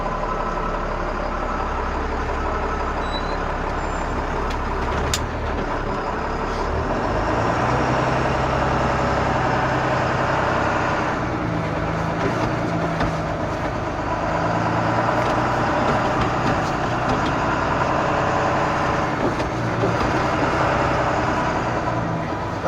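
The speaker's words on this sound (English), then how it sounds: "we'll actually take you through at a higher rate of speed to show how the maneuverability changes in the vehicle" An emergency vehicle drives a cone training course at higher speed, its engine a steady, moderately loud drone heard from inside with slight swells as it speeds up and slows.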